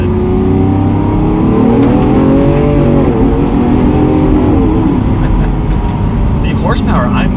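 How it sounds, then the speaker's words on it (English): A 2016 Lamborghini Aventador SV with a V12 engine accelerates from second gear under part throttle. Its loud, steady engine roar rises in pitch and is heard from inside the cabin. "we'll do one little acceleration from second gear. That V12 already just sounds so good."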